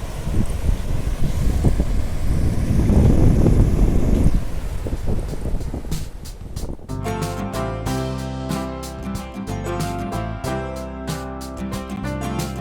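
Wind gusts and surf roll in at Bhogwe Beach in Sindhudurg, a loud blustery rush filling the first half before giving way to music, with no talk.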